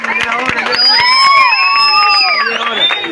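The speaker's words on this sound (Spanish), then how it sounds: "Llegó un aplauso para el niño Juan, se nos casa." A crowd at a concert in Río Primero cheers loudly with shrill whistles and scattered claps, a dense, steady roar of excitement lasting throughout.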